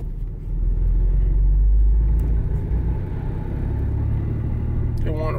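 A 2000 Nissan Pathfinder with a V6 engine cruises through town, its low steady engine rumble and road noise filling the cabin, with a brief clatter near the end.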